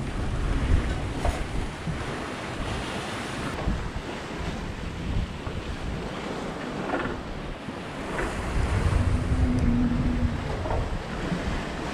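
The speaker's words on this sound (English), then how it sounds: "These waves are absolutely horrible." Rough ocean waves pound a Hallberg-Rassy 54 sailboat under sail at sea, a loud, continuous rush of water and wind gusts buffeting the microphone, swelling and easing in irregular surges.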